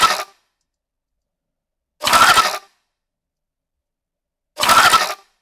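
Three short glitchy bursts of layered sound design built from Barbie doll sounds, each lasting about half a second with crackly, textured noise, separated by about two seconds of silence.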